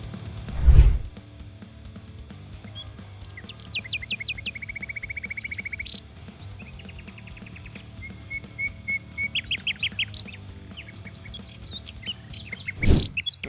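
Several wild birds sing in a village forest in Balakan, with repeated chirps, trills and whistled phrases near and far over a steady low hum, joined by a couple of brief louder knocks.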